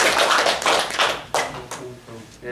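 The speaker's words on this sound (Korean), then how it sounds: "박수로 우리 아버님들에게 감사를 표하겠습니다" Church congregation clapping in thanks to fathers, a short burst of hand claps that fades out quickly, partly overlapping a voice speaking.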